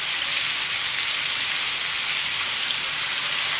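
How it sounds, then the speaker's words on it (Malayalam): Marinated chicken pieces frying in oil in a pan, a steady, loud, dense sizzle that holds evenly throughout with no talking. "ഇനി ഇതിലേക്ക് നമുക്ക് മാരിനേറ്റ് ചെയ്ത് വെച്ചിരിക്കുന്ന ചിക്കൻ കഷ്ണങ്ങൾ ഇട്ട് കൊടുക്കണം"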